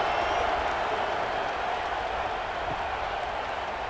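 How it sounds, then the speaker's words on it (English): Stadium crowd in a college football video game, a dense steady roar of many voices with scattered clapping, loud and continuous throughout without breaks. "this crowd is buzzing after that last score"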